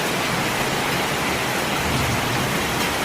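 Heavy rain with large drops and possible hail during a thunderstorm, a dense continuous loud roar of downpour hitting surfaces close by.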